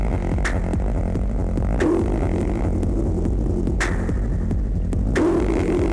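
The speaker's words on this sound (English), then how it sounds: "I think this one's a saturation." A modular synth techno loop pushed through a saturation effect pulses steadily, with a dense, gritty low end and recurring bright transients about every two seconds. It plays loud and alone.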